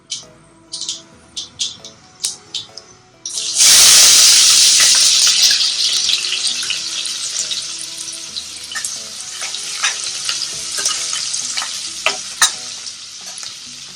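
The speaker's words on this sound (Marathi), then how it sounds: "आता आपण याच्यामध्ये कांदा घालणार आहोत." Mustard seeds and cumin crackle with sharp pops in hot oil for Puneri misal, then chopped onion hits the pan in a loud, sudden sizzle that settles into a steady frying hiss with scraping stirs and occasional spatters.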